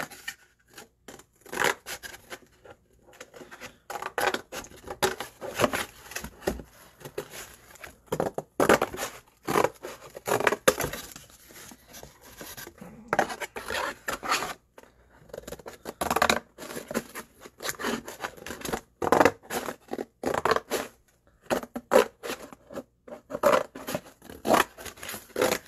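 Scissors snip through craft paper in quick, irregular cuts, dense crisp snipping and rustling close up for the whole stretch with no talk.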